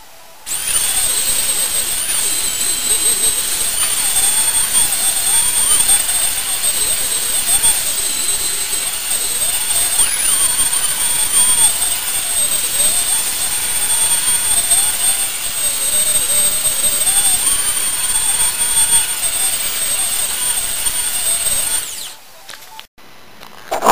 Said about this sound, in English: plug the belt sander in and give that a whirl